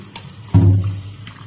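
Curdled cow's milk is poured through a shopping bag laid over a sieve, giving a short liquid splash and gush that starts abruptly mid-clip and tapers off, close by, with no talking.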